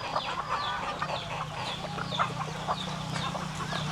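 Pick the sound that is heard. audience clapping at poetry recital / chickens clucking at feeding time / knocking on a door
chickens clucking at feeding time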